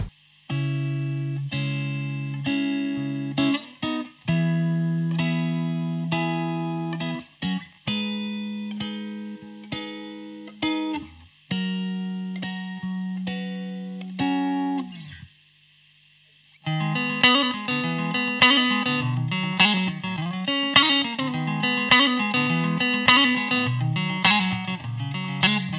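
An electric guitar played through an MXR reverb pedal on a short room setting, with sustained chords and picked notes that ring out, pause briefly, then resume in a brighter, busier strummed passage with no voices.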